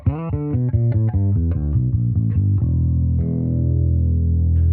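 Bass guitar with distortion and chorus on a Neural DSP Quad Cortex plays a quick run of plucked notes, then settles into a held, shimmering low note that rings on by itself.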